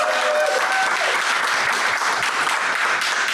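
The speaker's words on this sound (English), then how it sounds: "Round of applause for the studio audience." A live studio audience at an Edinburgh festival broadcast applauds in a dense, steady burst of clapping that stays loud and even throughout, with some faint voices mixed in.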